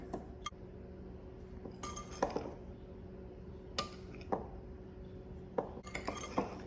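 A utensil mixes dry sugar, baking soda and salt in a glass bowl for a sheet cake, giving a quiet, close, irregular series of sharp clinks and taps over a faint scraping background.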